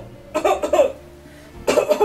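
A person coughs in two harsh bursts of rapid hacking, each a cluster of several coughs, loud and close with a short pause between.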